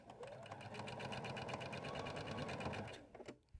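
A close sewing machine runs in one fast, rhythmic burst while stitching pillow fabric, stopping abruptly near the end with a couple of clicks.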